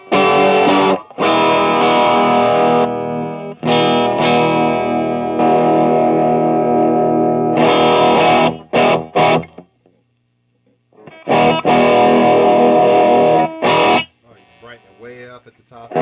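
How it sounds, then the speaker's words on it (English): Electric guitar driven through a Tube Screamer overdrive pedal, loud and gritty, played in several bursts of chords and riffs separated by short silent gaps, closing with a few quieter picked notes. "Just got that classic tube screamer sound."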